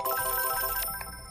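A telephone rings in the Yume 2kki video game: a bright, electronic trill repeats rapidly for about a second, then stops.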